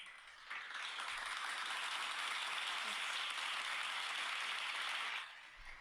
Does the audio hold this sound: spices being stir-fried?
no